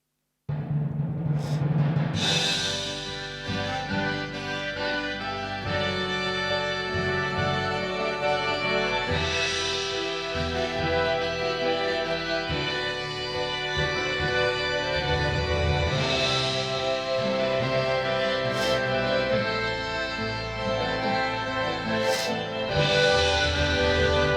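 Stately, coronation-style opening music for the Chester Mystery Plays, played as a keyboard mock-up with full sustained chords and bright fanfare-like accents, continuing loudly and steadily with no talking.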